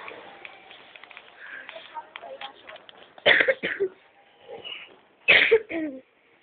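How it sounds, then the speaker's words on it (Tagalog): Two loud, harsh coughs break out a couple of seconds apart in Malpensa airport, with quieter speech and background murmuring between them. "Sorry na, may ubo lang."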